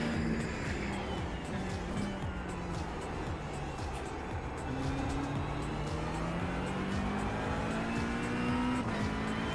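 A Porsche race car at Daytona 24 in a racing game drones steadily close by, its engine note rising and falling through gear changes, with faint tyre noise and a brief voice over the continuous engine.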